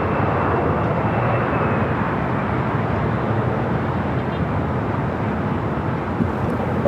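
An aging 27-year-old ex-TWA Boeing 757-200, now flying for Delta, taxis across a runway at Los Angeles airport, its loud steady jet roar filling the air without a break and mixed with some wind rumble.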